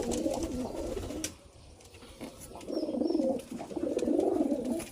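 Domestic pigeons at a nesting coop with eggs in several compartments coo in repeated rolling bouts, close to the microphone, with a short lull before the cooing swells again.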